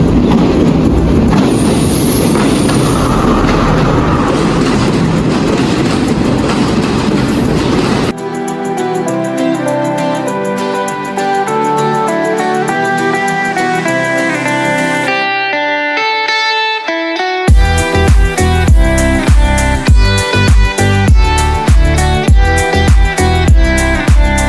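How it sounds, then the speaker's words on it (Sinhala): The Udarata Menike passenger train runs on the scenic Badulla line in Sri Lanka, giving a steady rolling rumble for the first few seconds before loud music takes over for the rest. "මං උදේ ගියේ උඩරට මැණිකි කියන ට්‍රේන් එකේ"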